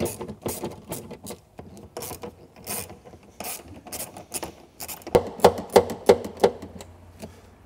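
A ratchet with a 10mm socket backs out subwoofer screws in an Audi A6 4G, giving close, sharp clicking strokes in uneven runs, and a tighter, louder burst of rapid clicks near the end.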